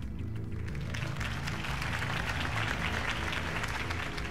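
Crowd applause after a campaign speech in Batman: The Telltale Series, a steady, loud wash of many hands clapping together with no break across the whole stretch.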